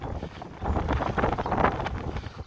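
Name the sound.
wind on a hilltop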